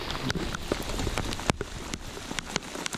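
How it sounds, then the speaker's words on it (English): Heavy rain pours down during a fall fishing trip in Northern Ontario, a dense steady hiss of drops pattering on surfaces with scattered louder splats, close and continuous with no talk. "in the pouring rain"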